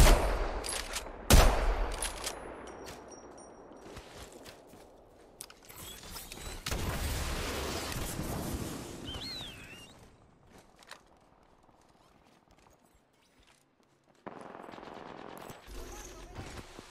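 Apex Legends gunfire: loud bursts of automatic weapon fire at the start and middle, then quieter scattered shots and mechanical clicks, with a sharp crack early on and a near-silent lull before the shooting picks up again.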